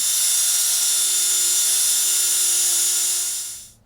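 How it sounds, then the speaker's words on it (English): A power drill whines at a steady high pitch as it bores out a pressed-on part of a Toyota Sequoia rear hatch handle, running continuously and close for several seconds before spinning down at the end. "but it's pressed on, so I will have to go and drill it out."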